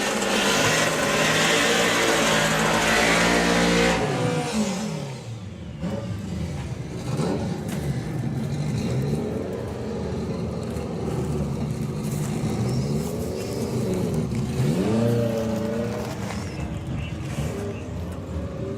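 A VW Caddy drag racer at Santa Pod roars hard at full throttle, then the loud engine drops to a rising and falling whine as it runs down the strip, heard close with crowd and track noise.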